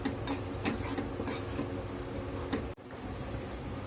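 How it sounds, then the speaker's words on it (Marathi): Flour being stirred and roasted in a kadhai over a low-to-medium gas flame, a steady scraping and rustling texture with soft repeated spoon strokes, brief pause near the end. "मी कढईमध्ये आधी पीठ घालून घेणार आहे पीठ आपल्याला गॅस लो टू मिडियम हीटवर ठेवून छान असं भाजून घ्यायचं आहे"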